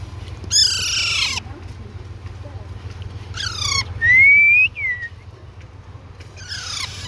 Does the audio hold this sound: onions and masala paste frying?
no